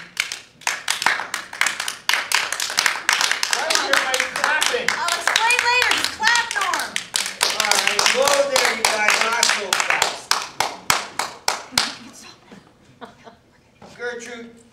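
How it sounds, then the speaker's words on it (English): Rapid, steady hand clapping, close and loud, runs for about twelve seconds under overlapping talk and laughter, then stops, leaving scattered quieter sounds and a voice. "Why are you clapping?"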